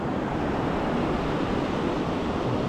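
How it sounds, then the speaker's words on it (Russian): High, stormy sea waves crash and roar on a beach under a red-flag warning, a loud continuous surf wash with wind noise throughout. "Волны бушуют, такие высокие"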